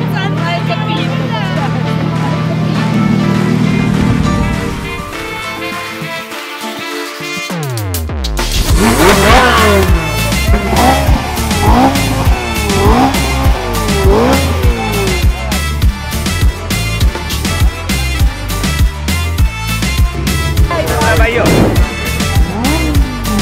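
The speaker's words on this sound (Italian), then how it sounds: "aspettiamo di sentire i motori incandescenti" Supercars at the Crazy Run event, a gathering of around 100 supercars in Italy, rev and roar past one after another in loud, rising bursts with tire squeal, after a car idles and a moment of quiet.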